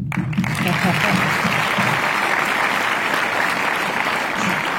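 Applause fills a cinema at a film premiere at UGC Mondeville, a dense, steady roar of clapping from a large audience that holds loud and unbroken throughout.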